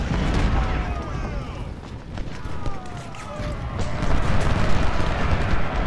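Cannon fire and battle ambience in the Civil War strategy game Ultimate General: Civil War, dull booms over a rumbling bed of marching troops and hooves, with a voice talking over it.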